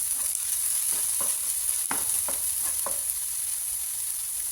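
Onions sautéing with salt in a pan for a soya dumpling filling: a steady sizzle with a string of sharp spatula scrapes and stirs, close and fairly loud, with no talking.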